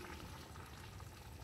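A pot of sardines and vegetables with udon noodles at a steady boil, a continuous soft bubbling hiss, faint and close, with no voices.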